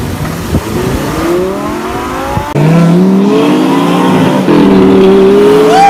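A Lamborghini accelerates hard nearby, its engine revving loudly with climbing pitch through several gear changes, running alone without talk.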